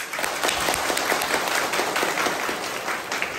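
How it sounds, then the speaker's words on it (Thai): A village crowd at a Pheu Thai party rally in Chiang Rai applauds to welcome a young speaker, with steady, dense clapping that holds loud and even throughout, no voices over it. "พี่น้องขอปรบมือต้อนรับเป็นกำลังใจให้น้ององค์เองหน่อยได้ไหม"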